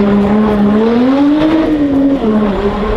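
A Lotus Exige Sport 380 sports car sliding on a race track, its engine note loud and close, holding a steady droning tone that rises and falls slightly throughout with no one speaking.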